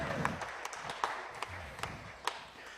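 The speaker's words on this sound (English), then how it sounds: "Y'all give him a big round of applause" An audience at the XFDA Finals of the Oklahoma State Championship drag racing event gives a drag racer scattered, sparse applause, with a handful of distinct claps over a low background murmur.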